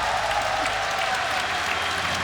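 Audience applause at a game reveal event for a new season of a tactical shooter, loud steady clapping and cheering from a large crowd filling the whole moment.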